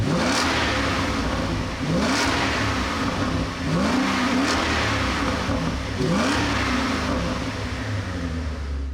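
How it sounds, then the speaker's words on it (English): A supercharged Cadillac STS-V V8 with dual exhaust revs repeatedly, several rising swells of engine note over a steady loud drone, heard close and without voices. "In back, you also had dual exhaust, which was a performance car type feature"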